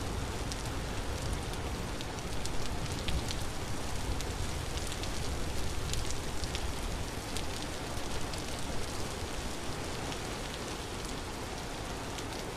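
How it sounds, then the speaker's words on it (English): Rain pours steadily in the survival video game Vintage Story, a dense, even hiss of drops on surfaces, close and continuous with no voices. "I imagine if this snow or this rain keeps up, it's gonna rapidly drop the temperature"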